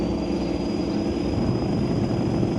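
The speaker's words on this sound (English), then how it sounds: "Oh yeah, Tony with a wheel stand with the Nova. Look at that Mustang go." A Mustang and a Nova street-legal drag car launch at a drag strip with a dense, loud, continuous engine roar that holds steady throughout.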